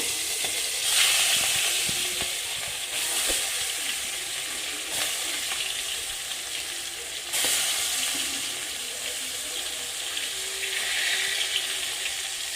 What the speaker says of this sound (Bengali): এবার আমি মাছগুলো ছেড়ে মাছগুলো ভেজে নেব।